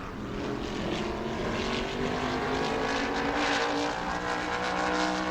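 A race car in qualifying at New Smyrna roars steadily past on the track, a loud sustained engine drone with a slight swell, no talk over it.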